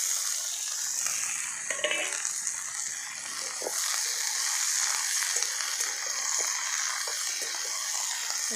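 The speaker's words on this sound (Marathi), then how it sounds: "आपल्या शेंगा अगोदर फक्त तेला मिठात परतून घ्यायचं आहे." Green hyacinth bean pods sauté in hot oil with salt, a continuous bright sizzle with occasional stirring scrapes and crackles, close and steady throughout.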